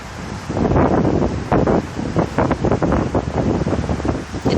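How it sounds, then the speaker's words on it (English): Strong outdoor wind roars and buffets the microphone in loud, uneven gusts that surge and ease over a few seconds. "It's really windy."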